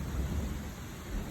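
Thunder during a huge thunderstorm rolls as a low, heavy rumble under a steady wash of rain, continuous and fairly distant throughout.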